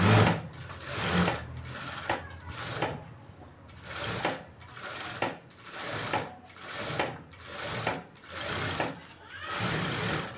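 A sewing machine stitches a quarter-inch seam around the neckline of a silk blouse, running in short, rhythmic bursts with brief pauses between them, close and clear.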